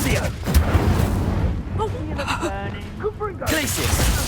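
Incendio fire spell cast in Hogwarts Legacy combat, a loud burst of booming, crackling blasts amid dense battle noise, with voices and shouts heard over it.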